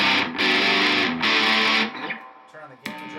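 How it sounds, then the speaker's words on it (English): An electric guitar played through a Supra drive pedal with its boost engaged rings out in two thick, saturated chords before dying away into quieter, sparse notes. "So I'm just going to hit the boost and the drive on my Supra,"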